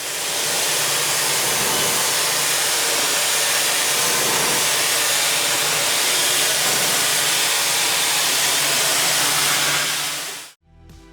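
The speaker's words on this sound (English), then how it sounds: "Stihl high pressure cleaner is a multi-purpose machine." A Stihl high pressure cleaner sprays water in a loud, steady broadband hiss that holds for about ten seconds before cutting off abruptly.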